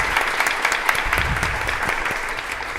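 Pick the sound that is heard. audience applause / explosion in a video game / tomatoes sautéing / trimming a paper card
audience applause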